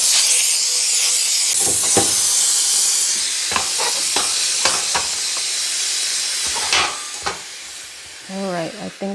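A Shark steamer blasts steam across a kitchen stove top, a loud continuous hiss that stays close and steady, broken by short clicks and clatters, with a brief voice near the end.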